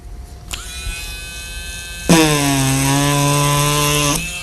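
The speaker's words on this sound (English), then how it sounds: "we're going to take our drill and just make a little pilot hole" A power drill boring a small pilot hole in a windshield during glass repair, a faint whir at first, then a loud, steady high-pitched whine for about two seconds before it stops.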